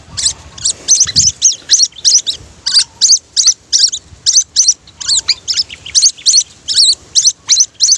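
Rapid bright chirps from caught birds on a rural farm, repeated in quick regular bursts close by, with a faint background murmur.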